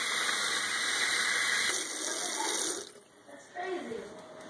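Tap water runs steadily from a faucet to refill a quail water dish, a continuous hiss that briefly dips and softens near the end before resuming, with no talking over it.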